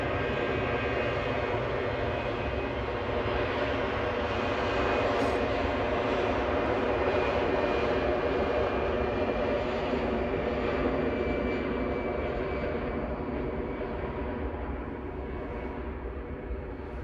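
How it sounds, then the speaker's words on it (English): An EasyJet jet airliner rolls for takeoff at Edinburgh airport, its engines a loud, steady roar that swells and holds throughout, heard up close with a faint voice underneath. "Oh, EasyJet's on the roll."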